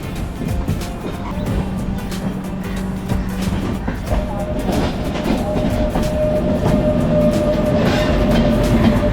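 The Deccan Queen Express passenger train rolls along the rails with a steady, loud rumble and rhythmic clatter, a sustained tonal whine rising partway through.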